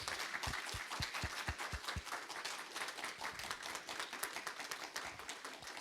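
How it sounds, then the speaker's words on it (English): Audience applauding veterans standing for recognition at an institute ceremony, moderately distant clapping from a sizable crowd, a few distinct claps at first and then a steady dense patter that carries on at even volume. "please stand to be recognized with a hand of applause."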